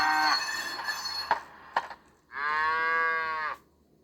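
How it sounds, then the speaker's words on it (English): A Soundtraxx Soundcar decoder on a model train cattle car plays a synthetic livestock effect through a 28mm speaker: a low cow moo at the start, a few knocks and clatters, then a long, loud, sustained moo. "the cattle's getting shoved around in there pretty good, so they get worked up."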